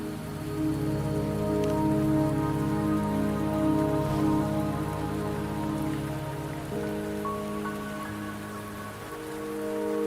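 Steady rain pours in the video game Wuthering Waves, a dense, even hiss of drops on surfaces lasting throughout, with sustained tonal music layered beneath it.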